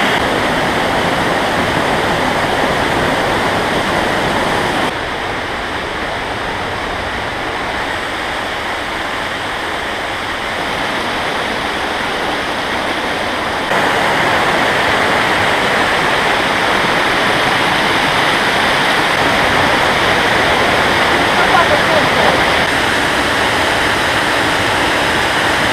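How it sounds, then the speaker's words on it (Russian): The Dzhur-Dzhur waterfall on the Uluzen river in the Crimean mountains, heard up close as a loud, constant roar of falling water whose level shifts slightly over time, with no voices. "добрались до реки, на которой куча водопадов. Сейчас я стою на одном из них."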